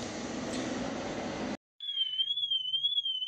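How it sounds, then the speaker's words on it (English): After a burst of broad noise cuts off, a Fisker Ocean's car alarm sounds as a high, steady electronic tone that wavers continuously, with faint low rumbles beneath. "the alarm's going off"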